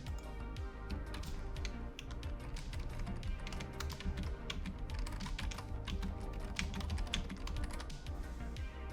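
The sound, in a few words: typing on a computer keyboard to name files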